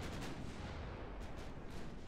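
In Ultimate Admiral Dreadnoughts, 13-inch naval guns fire in a dense, rumbling barrage of heavy booms, loud and continuous with a few sharper blasts standing out partway through.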